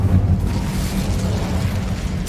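In the video game Hogwarts Legacy, the Incendio fire spell is cast, a low rumbling whoosh of flame with a dull burst at the start that settles into a sustained roar.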